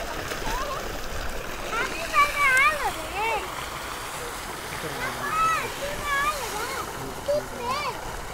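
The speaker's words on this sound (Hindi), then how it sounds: "काफी खूबसूरत है यहाँ पानी गिरता हुआ।" Water falls and splashes steadily at a village farmhouse, a continuous rushing wash heard nearby while people talk and children's voices rise over it.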